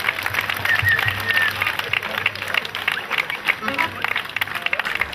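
Applause from an audience at a folk festival rolls on as a dense, continuous clapping wash, with a voice speaking over it throughout.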